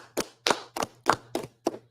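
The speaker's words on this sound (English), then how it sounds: "Let's clap it up for that, brother." Six separate, sharp hand claps in an uneven rhythm, fairly close and quiet, during a scripture class, with a low steady hum beneath them.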